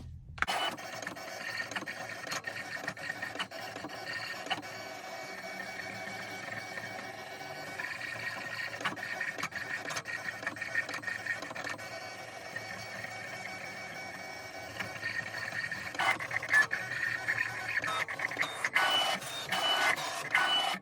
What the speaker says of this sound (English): now I'm going to put it in the machine, and we are going to cut the first layer